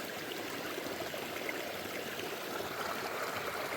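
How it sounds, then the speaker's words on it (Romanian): A waterfall stream flows steadily through the rain during an outdoor crystal hunt, a constant broad rushing hiss of water with no break or voices. "V-am arătat și cascada."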